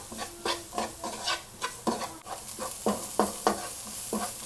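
Ingredients for gobi manchurian are sautéed in a pan, with close rhythmic scraping strokes of a spoon and a soft sizzle underneath, repeating at a steady pace.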